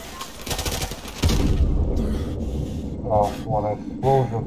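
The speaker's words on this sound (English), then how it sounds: "One explosion." An explosion in Call of Duty Modern Warfare Remastered: one sharp, heavy boom amid rattling gunfire, with voices talking afterward.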